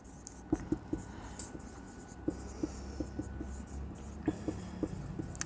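A pen writing by hand on paper while accounting figures are worked out, soft scratchy strokes and small taps in irregular clusters, quiet and close.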